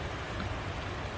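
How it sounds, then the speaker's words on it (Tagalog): Heavy rain pours steadily near a hut, a dense, unbroken hiss of water close by with no pauses. "Ganyan nangyayari dito pag tuloy-tuloy ang buhos ng ulan."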